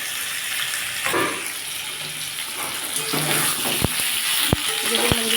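Steady sizzling of potato and tomato frying in a pan, with a few sharp clinks of a utensil against the pan near the end.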